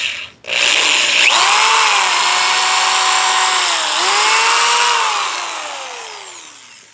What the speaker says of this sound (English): Pilot hole on this crossbeam support as well.